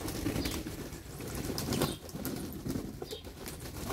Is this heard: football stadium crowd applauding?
no